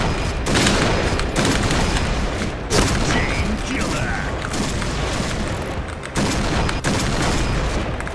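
Gunfire from an online shooter game crackles loud and almost nonstop, with dense bursts and booms filling the whole stretch and no pause.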